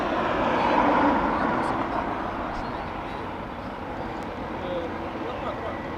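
An inbound aircraft at Dublin Airport gives a broad, moderately faint roar that swells early, then settles into a steady distant rumble.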